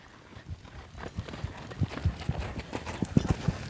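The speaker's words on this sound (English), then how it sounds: "Do a nice roll back and let's lope her the other way." Hooves of a horse loping in an arena during a riding lesson, a quick run of uneven thuds that grows firmer and louder toward the end, with no talking.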